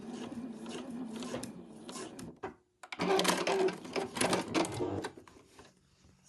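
A sewing machine stitches back and forth across ribbon on a stocking panel for an advent garland, making a close, rapid rattling hum that stops briefly in the middle and then starts again.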